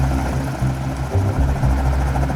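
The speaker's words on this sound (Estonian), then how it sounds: "Ma praegu võtan helikopteri." A helicopter in the Roblox game Mad City, a loud continuous rotor drone with a steady low thrum and engine hum throughout, no voices over it.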